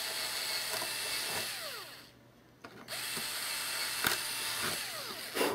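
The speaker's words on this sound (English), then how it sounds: "Drill your pilot hole." Power drill boring a pilot hole through a wooden part of a Big Stick 40 model airplane build, a steady whirring drone with short pauses and clicks, close up with no talking.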